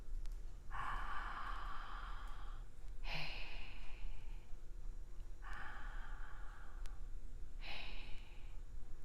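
Slow, deliberate breaths drawn in and let out, four airy exhalations and inhalations in a steady alternating rhythm, close and clear over a low steady hum with no speech.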